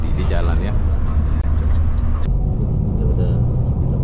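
Bus travelling on the road from Johor to Pasir Mas, Kelantan, a steady low engine rumble with road noise, continuous and close, with a voice talking over it.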